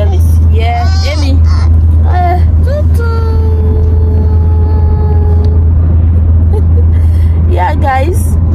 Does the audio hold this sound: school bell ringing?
no